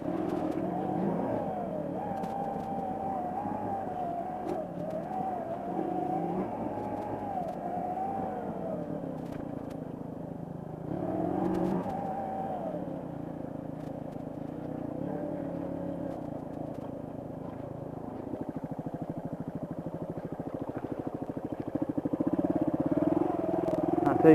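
A DR200 motorcycle rides an off-road trail in West Point, Tennessee, its engine droning steadily and close, with a brief surge midway and rising revs toward the end.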